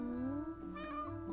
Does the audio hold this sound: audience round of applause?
no